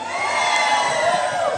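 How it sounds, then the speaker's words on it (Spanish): A nightclub crowd at a reggae, funky, electronic and cumbia dance party lets out a loud, sustained shout on cue, a dense wall of voices with no single speaker standing out. "¡Un grito!"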